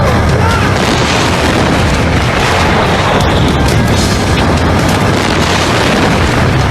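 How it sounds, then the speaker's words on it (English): A second fuel tank explodes near fleeing firefighters in a billowing fireball, producing a dense, loud, sustained roaring blast that fills the whole stretch without letting up. "Moments later, a second tank explodes."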